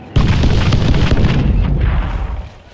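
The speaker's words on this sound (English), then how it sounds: "An explosion!" A loud anime explosion from Naruto Shippuden bursts in sharply and keeps roaring as a dense, rumbling blast, slowly fading near the end with no voices over it.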